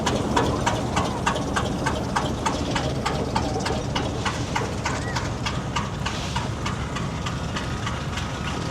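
A vintage diesel tractor idles at a steady, slow, knocking beat, with regular evenly spaced thumps continuing at a constant loudness throughout, heard outdoors at a steam fair.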